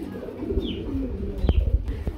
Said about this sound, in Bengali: খুবই সুন্দর ব্ল্যাক চেক এক জোড়া কি শৌখিন কবুতর